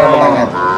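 A single cow at the Melapalayam cattle market during Mattu Pongal gives one loud, close, drawn-out moo lasting under a second.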